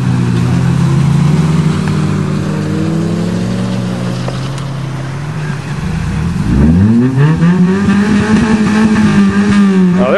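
Modified street cars in an amateur farm race, engines droning loud and close, then revving hard and climbing in pitch after a brief dip, with dense harmonic roar and no talk.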